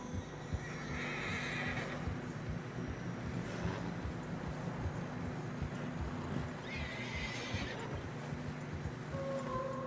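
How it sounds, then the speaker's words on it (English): Horses in the video game Red Dead Redemption 2 struggle through fresh snow, whinnying and snorting while hooves plod steadily, close by, over a low continuous hum and a soft background rumble. "Horses are struggling."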